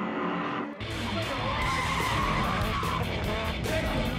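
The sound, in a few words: drift car tire skid from pulling the e-brake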